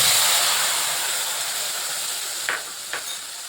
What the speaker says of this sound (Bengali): এই যে কালো জিরে আর কাঁচা লঙ্কাটা ভাজা হয়ে গেছে